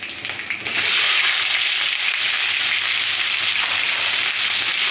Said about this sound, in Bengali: পেঁয়াজটা দিয়ে দিলাম এটা একটু ভাজা ভাজা হয়ে এলে